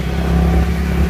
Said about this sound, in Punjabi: ਇੱਕ ਬੱਚਾ ਮੋਟਰਸਾਈਕਲ 'ਤੇ ਚਿੱਟੇ ਮਾਰਦਾ ਸਪੀਡ ਦਾ ਲੰਘ ਗਿਆ